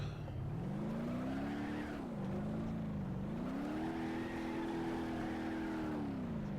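Engine of a Gavril Barstow muscle car lapping a track in BeamNG.Drive, a loud, continuous close-up drone whose pitch dips and swells as the driver lifts off and accelerates again, with no talk over it.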